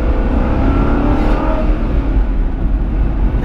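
A 2007 Chevrolet Corvette with its original 6.0-liter engine revs loudly and steadily, a dense, close engine roar that fills the whole stretch with no speech.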